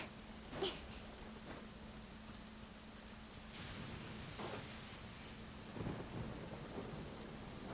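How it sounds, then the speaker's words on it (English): A thunderstorm with rain in the video game Genshin Impact: a faint, steady hiss of rain with a few brief thunder cracks and rumbles scattered through, over a low background hum. "Thunder and lightning can be quite frightening"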